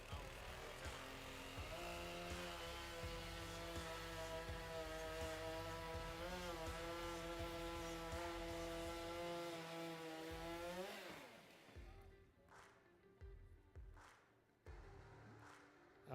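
A high-revving STIHL hot saw chainsaw at a Timbersports pro championship screams steadily through a log, its pitch rising and then dropping sharply as the cut ends, followed by short bursts and idling.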